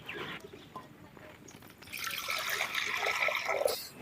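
Water poured into a pot set on a stove while cooking horse gram porridge, a broad rushing trickle that builds and continues for a couple of seconds, close and moderately loud, following brief quiet speech.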